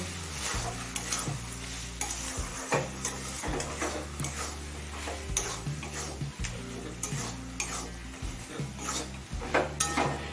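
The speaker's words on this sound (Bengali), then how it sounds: "এবারে ডিমটা নেড়ে চেড়ে সবজির সাথে মিশিয়ে নেব" Eggs stirred together with kudri vegetable in a frying pan: continuous sizzling under brisk, repeated spatula scrapes and taps on the pan, close and busy throughout, with a steady low hum in the background.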